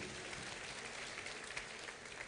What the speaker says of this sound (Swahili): Pigieni Kate makofi mazuri.